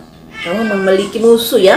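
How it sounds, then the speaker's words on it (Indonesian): A cat meows loudly and close in a couple of drawn-out, wavering cries, heard alongside someone speaking. "maaf ada kucing bernyanyi"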